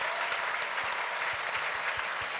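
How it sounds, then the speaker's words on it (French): An audience at a sports awards ceremony gives a steady burst of applause for the technicians, dense close clapping filling the whole moment without a voice over it. "je voudrais qu'on applaudisse tous les techniciens"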